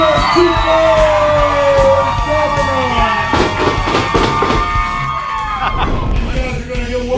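A wrestling crowd at a tag team title match in a Texas pro wrestling show cheers, yells and whoops for Pablo Chuco and Doberman, a loud steady roar of many voices with whistles and shouts, under an announcer's voice.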